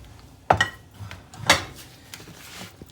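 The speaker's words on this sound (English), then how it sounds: "we're going to add all of our delicious cornbread stuffing to this pan right here" Cornbread stuffing spooned into a butter-greased baking pan, two distinct utensil clanks against the pan about a second apart with soft scraping between, close and without speech.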